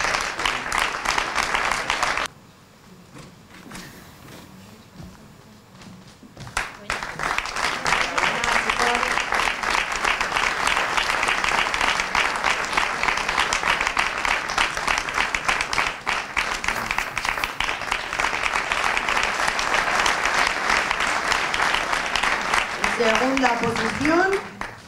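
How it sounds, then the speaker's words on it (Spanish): Audience applause at a jota dance contest for the adult duo category in Funes, a long, steady, loud wash of clapping from a crowd with a brief quieter gap early on. "Un aplauso para los chicos"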